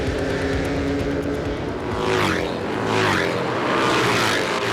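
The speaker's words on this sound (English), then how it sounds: "The Harley-Davidson Twin Sports had Loudon growl around the course in a style all their own." Harley-Davidson Twin Sports road-racing motorcycles roar past on the Loudon circuit. Several loud passes rise and fall one after another over a steady background engine drone, with no talk.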